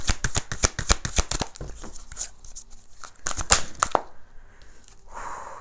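Tarot cards are shuffled by hand in a run of rapid, crisp riffling flicks and snaps, followed by quieter sliding and a soft rustle as the deck settles, close and with no talking.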